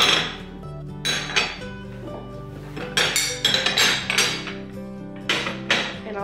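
Antique ceramic plates stacked back up one on another, with ringing clinks and clatters arriving in irregular clusters, close by and fairly loud, with no one talking.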